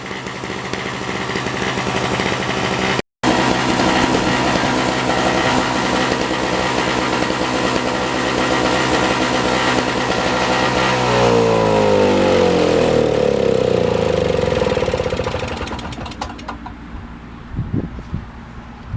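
A 1970s Nova snow blower engine runs rough and loud in a steady drone, its speed sagging and pitch dropping near the end before it settles into an uneven, sputtering idle.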